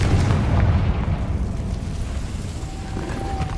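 Bombarda and Confringo spells exploding in Hogwarts Legacy, a loud low boom that rolls into a sustained rumbling blast and slowly settles, with no talking over it.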